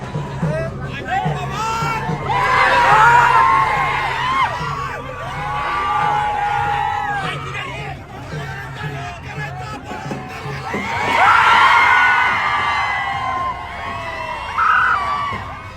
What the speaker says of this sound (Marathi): हा जल्लोष आहे नगराध्यक्षपदाची निवडणूक बिनविरोध झाल्याचा